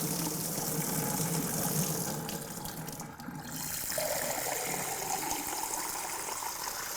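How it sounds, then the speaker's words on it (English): Cold water poured into a Cuisinart CPO-850 pour-over coffee maker, a continuous close splashing trickle that briefly eases midway before resuming steadily. "I'm going to pour water in using this so I can pour cold water in."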